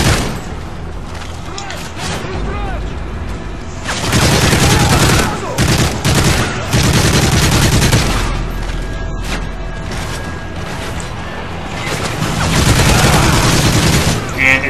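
Sustained video-game gunfire from an offline survival shooter, with dense overlapping bursts and booming shots that swell louder in waves, forming a loud continuous barrage with a voice occasionally heard underneath.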